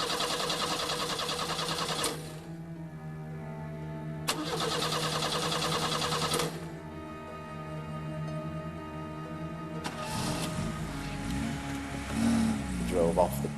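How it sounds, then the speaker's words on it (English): A car engine cranks and sputters in a couple of failed attempts, then catches and runs, with people talking over it, on the Stocksbridge bypass. "We went to start the car, and at first the car wouldn't start"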